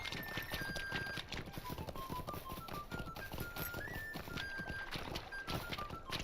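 Horse hooves clip-clop at a steady walking rhythm in The Lord of the Rings Online, set in the Shire, with the footfalls continuing throughout under soft in-game ambient music and no talking.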